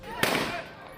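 A gunshot fired in broad daylight during a fight over cutting green trees rings out as one abrupt, sharp crack that decays quickly, with a voice talking over it.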